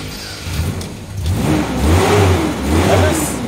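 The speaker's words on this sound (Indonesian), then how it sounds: "Kita coba cek mesinnya." A 1992 Toyota Kijang Super G Deluxe engine revs close by, the low drone climbing in a couple of swells over a rough idle, with faint voices in the background.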